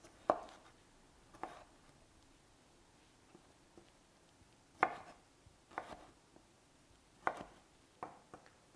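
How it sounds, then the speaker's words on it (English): A knife cuts carrots into matchstick pieces for a Persian chicken salad, with sparse, quiet single chops on a board spaced a second or more apart. "Cut the carrots down into matchstick pieces."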